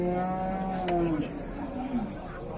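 A cow moos at a livestock market in the Fergana region, giving one long, loud, drawn-out call that bends in pitch, with market murmur behind it.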